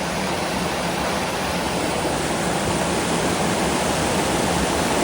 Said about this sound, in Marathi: पाण्याला जोश किती भारी आहे